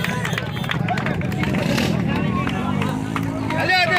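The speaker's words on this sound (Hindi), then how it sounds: "लोग सारे तालियां बजा रहे हैं और शाबाशी दे रहे हैं गुलाम हुसैन को।" A crowd at a Malakhro wrestling bout in Pakistan claps and cheers for a winning wrestler, a dense hubbub of applause and shouts with a voice talking over it throughout.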